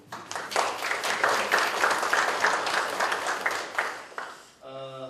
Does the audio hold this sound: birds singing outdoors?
no